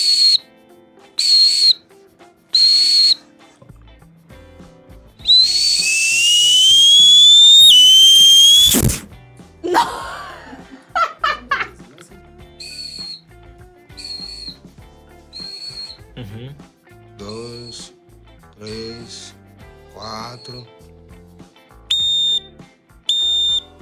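A solo whistle piece played with a range of techniques: sharp separate blasts, a long rising sustained tone, rapid trills and warbling flutters, then more spaced blasts, loud and close with pauses between phrases.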